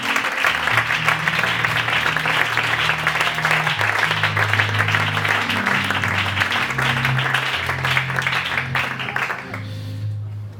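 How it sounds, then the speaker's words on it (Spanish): A church congregation claps together for the Lord, a steady crowd applause lasting about ten seconds over a low musical backing, fading out at the end. "Un aplauso para el Señor"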